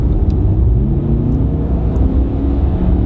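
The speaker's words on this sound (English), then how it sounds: "240 PS, a 2-litre TDI engine, but with an amplifier that gives it like a V8 roar and rumble" The 2019 Skoda Kodiaq vRS, whose 2-litre 240 PS TDI engine is run in sport mode with a sound amplifier, gives off a loud, steady low rumble and roar that stays constant throughout.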